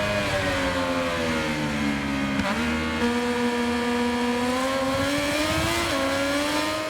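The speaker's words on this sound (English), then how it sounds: "The Moto2 bikes especially, they sound like they have a lot less of a screamy engine noise than last year." Moto2 racing motorcycle engine in the game MotoGP 26, a steady close drone that holds and shifts pitch as it upshifts through gears, loud and continuous with no voices.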